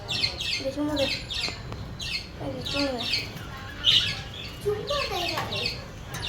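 Several birds chirp and squawk close by in short, scattered bursts, with brief pauses between calls.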